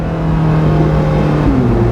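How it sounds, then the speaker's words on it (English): A hybrid hypercar's gasoline engine restarts from electric mode when the throttle opens: a loud, steady low drone that rises in pitch near the end, with no voices. "if you're in electric mode and then you get on the throttle, it just turns the engine back on for you"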